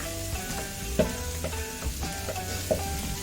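Five onions frying in oil in a pan for Malabar chicken biryani, a steady close sizzle with occasional stirring knocks and scrapes.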